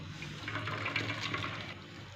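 Curdled milk whey pours and trickles through a thin cloth strainer while paneer is separated, a soft, steady liquid stream heard for about two seconds with no talk.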